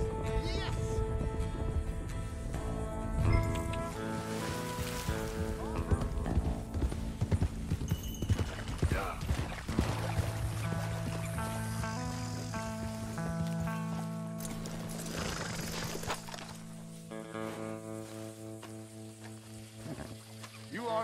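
Wild horses in Red Dead Redemption 2, a steady clip-clop of hooves galloping across open ground with occasional whinnies, close and continuous, under background game music and some talk.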